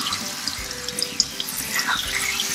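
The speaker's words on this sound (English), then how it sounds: "Now we'll wash the sorrel, make sure getting all inside in case there's any sediments or dirt or soil." Water streams from a faucet into a sink as sorrel for a Caribbean drink is rinsed by hand, a steady close splashing hiss with small sloshes and no speech.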